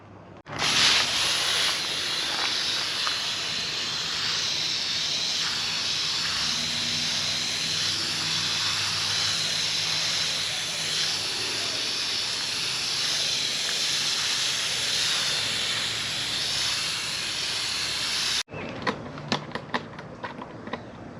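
A steady, loud hiss of water spraying from a hose over a vegetable garden bed, continuous for many seconds before cutting off, followed by faint clicks.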